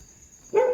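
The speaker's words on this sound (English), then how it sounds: "The dogs are really annoying." A single short, loud dog bark bursts in abruptly after near silence, standing alone with no talking.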